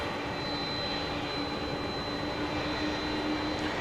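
A Boeing 757 taxies at DFW airport after dark, far across on the east side: a steady, distant jet engine roar with a thin whine held throughout.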